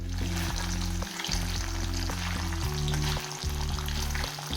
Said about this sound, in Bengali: পনিরগুলোকে এবার আমরা লো ফ্লেমে ভেজে নেব